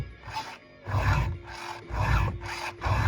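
A hand file rasps along the teeth of a chainsaw chain on a workbench. Four or five close, firm grinding strokes come in an even rhythm, each separated by a quieter return stroke.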